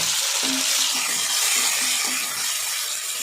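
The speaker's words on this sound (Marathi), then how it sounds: "आता कांदा चांगला परतवून घ्यायचा" Chopped onion sizzles steadily as it is sautéed in a pan for a village-style cowpea dish, a close, even hiss broken by soft taps of stirring, with no talk.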